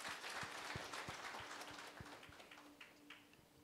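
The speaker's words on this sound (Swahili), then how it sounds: "makofi mazuri" A church congregation at a Swahili-language service in Eldoret claps together in a sustained round of applause, dense and steady before gradually thinning out.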